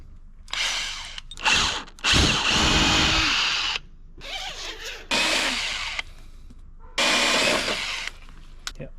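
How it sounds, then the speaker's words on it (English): A power drill runs in several short bursts of whirring, revving up and stopping with brief pauses between each hole, pre-drilling a DIY battery box for a trolling motor. "I'll pre-drill all my little black holes"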